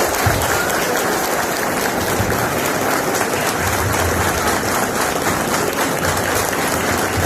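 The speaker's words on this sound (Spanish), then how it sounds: "este fuerte aplauso a Hernán Cerúñez" A full audience at a talk on the origins of the PLD breaks into a strong, continuous round of applause, close, dense and unbroken for the whole stretch.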